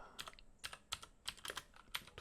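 Quick, irregular taps of typing on a computer keyboard as a search is entered, close and faint, a dozen or so clicks in short bursts with no talking.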